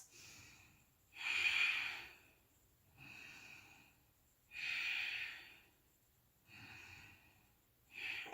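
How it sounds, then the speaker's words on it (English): Deep, slow breathing during a held low plank in a yoga chaturanga workout: four or five long, airy breaths, each a loud exhale or inhale of about a second, separated by short quiet pauses, with no talk. "3 deep breaths."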